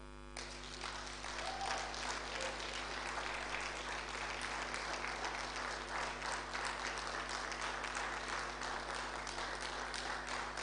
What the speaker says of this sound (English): Emmanuel, can we clap for him?